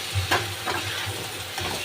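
Spices are stirred into a frying tomato masala for mutton curry, a steady sizzle under a few soft spoon scrapes and knocks, close and alone without talk.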